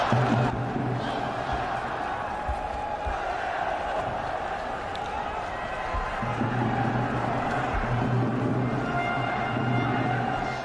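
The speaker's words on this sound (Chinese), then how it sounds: "现在所有的掌声都是送给海港队八号" Stadium crowd at a Chinese Super League match between Shanghai Port and Dalian Pro, applauding number eight Oscar; a steady, broad roar of clapping and cheering fills the whole stretch, swelling slightly near the end.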